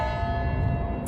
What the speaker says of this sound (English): that's the bell in the old town.